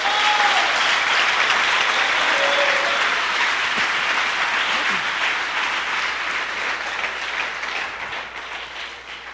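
A church congregation applauds loudly and steadily, the dense clapping holding strong before slowly thinning toward the end.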